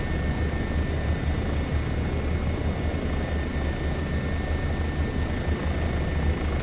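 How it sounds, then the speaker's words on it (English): A Bo 105 helicopter in Microsoft Flight Simulator 2024 holds a constant loud rotor and engine drone, with a dense low throbbing beat and a thin steady whine above, heard from close inside the cockpit with no pauses. "I do love this helicopter, it's very smooth, really nice to fly."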